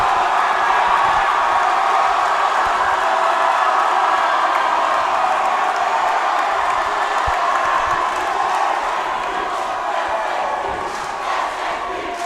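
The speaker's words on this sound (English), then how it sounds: "And this crowd is going crazy." A packed gym crowd roars and cheers loudly and continuously during a high school boys basketball game, SHP against Menlo, a dense sustained wall of noise with whoops that eases slightly near the end.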